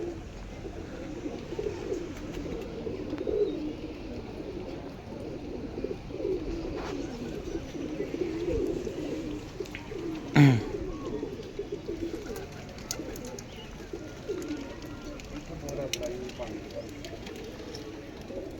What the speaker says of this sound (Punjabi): ਕਬੂਤਰ ਆ ਕੇ ਬੈਠਾ